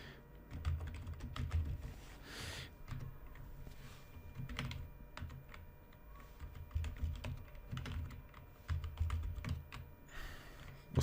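Someone types on a computer keyboard, entering an address into an online form; quick bursts of soft, close keystrokes come in clustered runs with short pauses between them.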